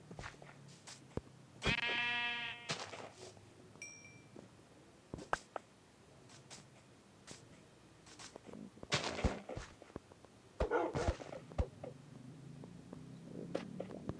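Sheep in the video game Minecraft bleat in short, wavering cries amid sharp clicks and hits from combat, fairly quiet, with scattered bursts of game noise and no talk.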